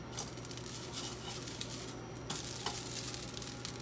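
Noodles for red miso yakisoba frying in a pan, giving a continuous loud sizzle with occasional stirring scrapes and crackles, no talking.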